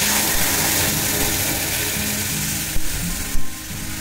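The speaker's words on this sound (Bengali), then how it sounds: "আমি চিংড়ি মাছের মাথার এই গ্রেভি কষিয়ে নেব" Prawn-head gravy sautéing in a pan, a steady, loud, close sizzle that runs throughout, with a couple of brief knocks near the end.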